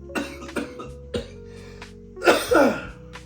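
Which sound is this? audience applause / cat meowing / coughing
coughing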